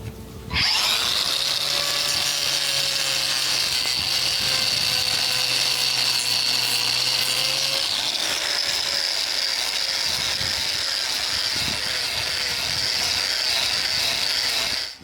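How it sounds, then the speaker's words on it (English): A Sealy battery grinder whines loud and continuous while trimming cow hooves, its high motor tone steady for the whole stretch with slight shifts in load as it cuts into the hoof. "this is a Sealy battery grinder that I'm using that actually is surprisingly good"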